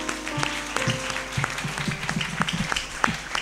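A church congregation claps for Jesus, a steady patter of many hands that sounds fairly distant and quiet, with a sustained tone underneath.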